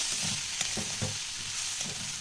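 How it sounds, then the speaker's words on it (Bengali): Rice and lentils being stirred and dry-fried in a pan for khichuri, giving a steady close sizzle with a few soft scraping strokes of the spoon, no voices. "চাল আর ডালটা বেশ অনেকটাই ভাজা ভাজা হয়ে গেল"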